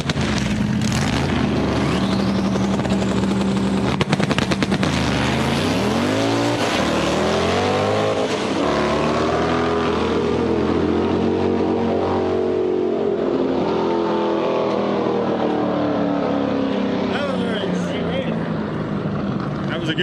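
Two 2,500HP drag race cars launch off the line in a grudge race, a loud roaring engine surge rising and sweeping in pitch, with voices talking over the din.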